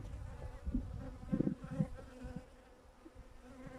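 Honeybees around a beekeeper's hive hum in a low, wavering buzz that swells in a few close passes and then thins to a softer drone, quiet and without talk.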